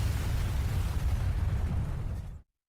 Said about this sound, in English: A moment later, the aircraft slammed into the water behind me. The explosion echoed across the empty ocean.